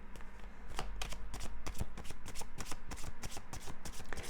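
Tarot cards are shuffled by hand in quick, close riffles and snaps, a dense run of crisp papery flicks and taps that continues steadily with no speech over it.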